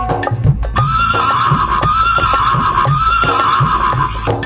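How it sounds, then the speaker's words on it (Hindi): A horse whinnies loudly and repeatedly in a sharp, rising-and-falling neigh, with faint hoof clip-clops underneath, close by and with no one speaking. "एक हिनहिनाता घोड़ा दरबार को खड़े।"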